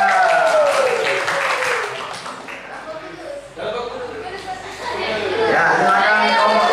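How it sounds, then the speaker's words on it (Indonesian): A classroom of students claps for a student group during a Christian religion lesson, with bursts of applause at the start and again near the end, mixed with chatter and voices talking throughout. "Beri tepuk tangan kelompok Roker."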